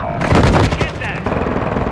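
Video game gunfire crackles in rapid automatic bursts, loud and dense, with a voice talking over the shots.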